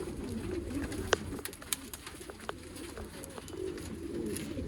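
Pigeons coo softly and repeatedly in a loft of old-line tournament racing pigeons offered for sale in Bangalore, with a few sharp flutters and clicks over steady low background noise.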